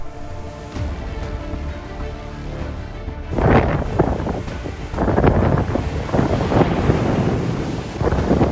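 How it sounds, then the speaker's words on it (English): Big storm waves crash near a grounded ghost ship off Ballycotton, heavy surges breaking in a roaring series after a quieter stretch, with strong wind battering the microphone throughout. "there's some big waves there down the road"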